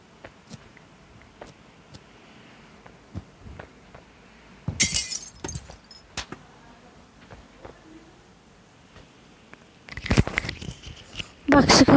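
In the video game Human Fall Flat, a glass window shatters in a few sharp bursts, each with a bright tinkling spray of fragments, set apart by quieter stretches of faint clicks and thumps.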